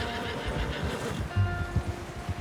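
A horse whinnies in Red Dead Redemption 2, a loud close neigh with a few low snorts and hoof-like thumps near the end, alone without talk.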